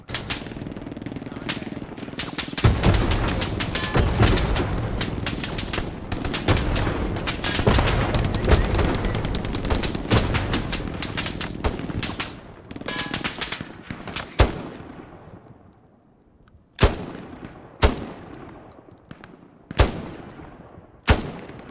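Gunfire in the WWII shooter Hell Let Loose, with dense sustained machine-gun bursts and booms for about fourteen seconds, then a quieter lull broken by several loud, separate single shots.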